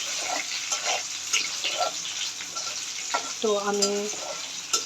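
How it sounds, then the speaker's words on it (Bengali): Onion and green chilli sizzle and crackle steadily in a hot pan with oil, a constant broadband frying hiss under occasional stirring scrapes, with a brief tonal beep near the end and a few words spoken. "আমি পেঁয়াজ এবং কাঁচামরিচ একটু সটেড করে নেব।"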